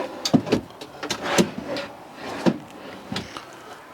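Pull-out cabinet drawers in the bedroom of a 2018 Forest River Cardinal 3350 RLX fifth-wheel RV slide and knock several times, a series of short, close thumps and rolling slides with no talking.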